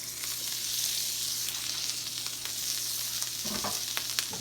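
A Reuben sandwich sizzles steadily on a hot griddle right after being flipped, a constant close frying hiss with a low hum beneath and a few soft scraping clicks near the end.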